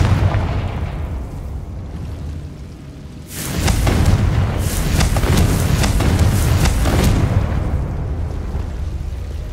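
The Confringo blasting spell erupts in the Hogwarts Legacy video game, a sudden loud boom that rolls into crackling debris and rumbling for several seconds, following a quieter ambient stretch.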